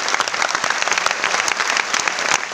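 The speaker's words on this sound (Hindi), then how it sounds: "उनके लिए जोरदार तालियां, एक जोरदार तालियां" Loud, dense applause from a large seminar crowd, continuous clapping filling the room without pause.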